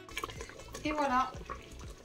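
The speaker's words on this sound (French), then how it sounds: "J'ajoute un tout petit peu d'eau. Toujours de l'eau chaude." Hot water trickles and splashes into a pot of spaghetti and meatballs, soft close pouring and bubbling, while a voice talks over it.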